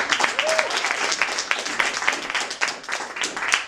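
An audience at a literary reading claps in a brisk, moderately full round with audible individual hand claps, a brief faint voice slipping in early on.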